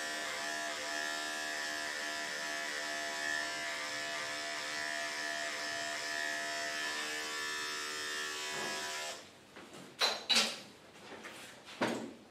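Electric clippers buzz steadily and close while grooming a matted Maltipoo dog, a constant high whine that cuts off after about nine seconds, followed by a few sharp clicks and knocks.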